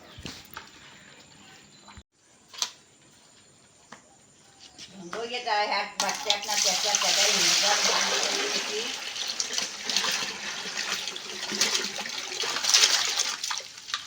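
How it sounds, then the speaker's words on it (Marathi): Cold water pours and splashes steadily for the second half, loud and continuous, after a quieter stretch, during a river bath on a crab-catching outing in a Konkan village, with people talking throughout. "जरा थंड पाणी टाकतो"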